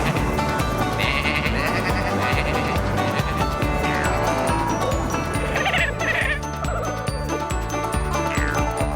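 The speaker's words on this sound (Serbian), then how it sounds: "Znaš kakve mogu da budu ovce kada im se nešto uvrti u glavu?" Cartoon sheep in Tractor Tom bleat repeatedly over a dense, continuous music track, with a light jingling alongside the animal calls.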